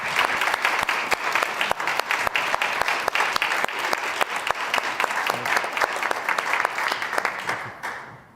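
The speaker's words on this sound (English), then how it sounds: "A round of applause for our panel." An audience gives a panel discussion a round of applause: dense, sustained clapping from a full room, loud and steady for several seconds before tapering off.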